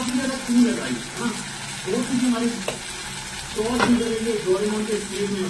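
Spices with ginger-garlic paste, cumin and chilli powder sautéed with browned fried onions in a pan, a continuous sizzle with scraping stir strokes and occasional clinks, close and moderately loud with no clear talking.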